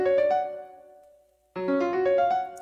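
Two short phrases play a custom scale of three-note minor and three-note major steps in a plucked, keyboard-like tone. The first phrase rings out and fades, then the second follows after a short gap, both moderately loud.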